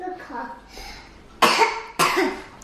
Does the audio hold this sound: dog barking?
no